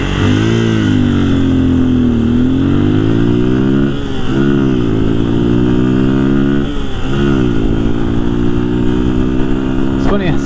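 Motorcycle pulling away from a traffic light at full throttle, engine note climbing through several gear changes, loud and close from the rider's position with steady wind noise.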